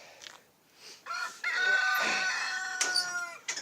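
A rooster, father of an ermine Light Sussex, crows loudly and close on a poultry farm, one long drawn-out call preceded and followed by softer clucks and short calls from nearby hens.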